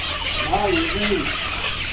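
Layer hens on a poultry farm in Kushtia cluck loudly and close by in short bursts, with a faint murmur of voices in the background.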